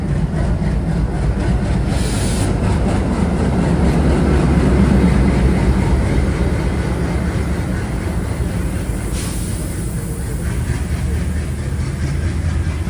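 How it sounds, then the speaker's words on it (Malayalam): The Garib Rath Express, a third-AC economy train, pulls into platform 3 at a station on the Bengaluru to Thiruvananthapuram route. It makes a steady, loud rumble of wheels and engine that runs unbroken without voices. "train number 12257 Yesvantpur Thiruvananthapuram north Garib Rath express ഇതാ പ്ലാറ്റ്ഫോം നമ്പർ 3 കടന്നു വരികയാണ്"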